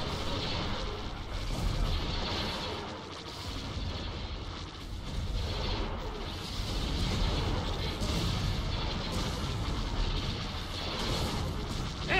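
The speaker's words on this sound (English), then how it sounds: "Things go boom." Continuous explosions from battle in the Star Wars Republic at War strategy game, a dense rumbling barrage of booms blending into one steady roar that swells and dips throughout.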